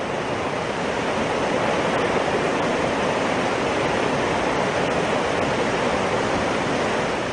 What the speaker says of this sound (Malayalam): പച്ചപ്പിനെ വകഞ്ഞുമാറ്റി കുന്നിന് മുകളിൽ നിന്ന് കുതിച്ചിറങ്ങുന്ന വെള്ളച്ചാട്ടങ്ങളെ എങ്ങും കാണാം